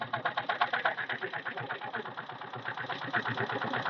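A car engine that has been left running for about twenty minutes idles close by, its steady rapid mechanical chugging continuous and even from start to finish, with no talk over it.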